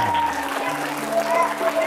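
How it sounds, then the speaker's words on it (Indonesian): Classroom of junior high students at an ecology school applauding together, a dense steady patter of many hands with a faint tonal hum running underneath, lasting a couple of seconds without pause. "Tepuk tangan."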